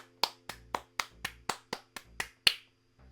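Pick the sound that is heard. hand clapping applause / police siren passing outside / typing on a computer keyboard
hand clapping applause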